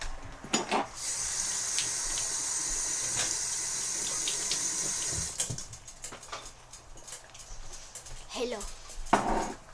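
Hands being washed under a running tap at a sink, a steady stream of water for several seconds, then splashing and rubbing with the flow cut, amid a few short voices and background noise.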